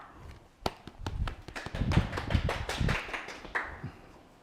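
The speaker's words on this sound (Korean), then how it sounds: "다시 한번 큰 박수 부탁드립니다" Scattered claps from a lecture audience at a science talk, starting as sparse separate hand claps and thickening into a light ragged round of applause before tapering off, modest and fairly close.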